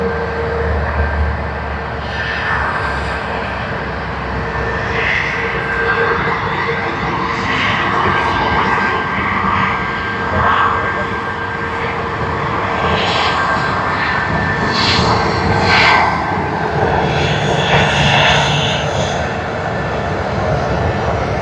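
Jet aircraft at Sydney Airport, a steady, loud engine roar that fills the whole stretch with a broad, slowly swelling rumble and whine and no break.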